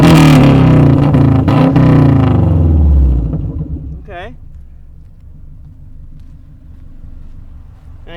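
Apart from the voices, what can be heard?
1993 Subaru Legacy revving with turn-down dump exhaust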